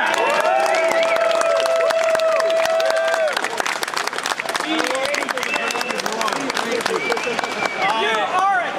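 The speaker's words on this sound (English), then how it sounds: "how about a round of applause for Jeremy?" Applause and cheering from a crowd at a tabletop gaming tournament prize-giving fill the whole stretch, with voices shouting over the clapping and a sustained whistle-like tone early on.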